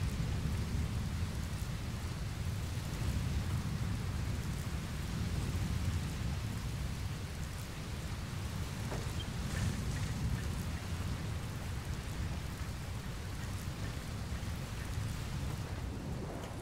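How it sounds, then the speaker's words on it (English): Steady rain with rolling thunderstorm ambience in the video game Dragon Quest Builders 2, a dense continuous wash of low rumble and hiss throughout, with a faint brief crack partway through and no talking. "Looks like there's another storm rolling in."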